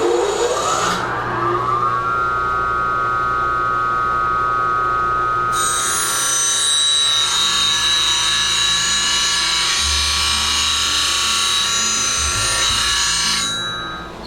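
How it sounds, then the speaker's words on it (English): A bench grinder reshapes a bowl gouge held flute-down, giving a steady, loud high whine with sustained grinding hiss that keeps running throughout without pause. "turn the gouge upside down with the flute actually facing the floor and then grind the particular shape that I'm after"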